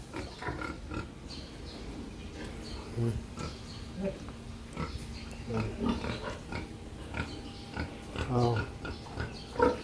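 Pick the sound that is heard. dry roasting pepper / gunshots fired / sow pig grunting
sow pig grunting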